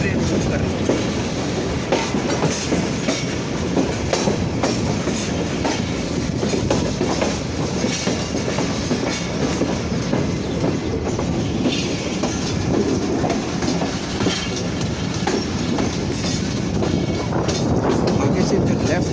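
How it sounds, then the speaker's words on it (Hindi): A long train crossing the historic Sindh Bridge in Pakistan, a loud continuous rumble of wagons with rhythmic clickety-clack of wheels over rail joints, sustained close by throughout with a faint voice underneath. "पूरी की पूरी ट्रेन, बड़ी लंबी ट्रेन मूव कर रही है"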